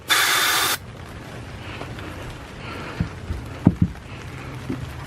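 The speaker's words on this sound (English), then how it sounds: "We're gonna spray just a little bit of starting fluid" A short, loud hiss of starting fluid sprayed into the carburetor of a 1988 9.9hp outboard motor, lasting under a second, followed by quiet room noise with a few faint knocks and clicks.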